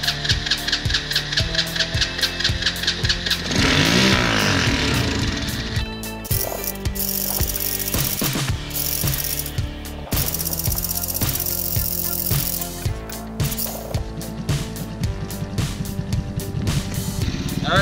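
A go-kart engine, restored after an electrical fault was bypassed to the starter, cranks and then runs with a loud, close, rough mechanical chatter and revs that rise and fall.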